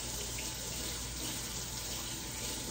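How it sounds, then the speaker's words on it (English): A kitchen tap runs steadily while hands are washed, a continuous close hiss of flowing water with no breaks and no talk. "Wash your hands."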